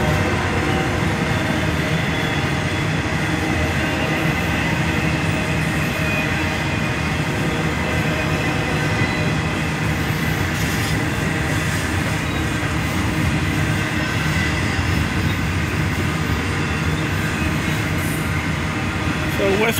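A long westbound CSX container train with a single engine up front rumbles steadily past at close range in McKeesport, heavy continuous rolling noise with faint wheel squeal and clatter throughout.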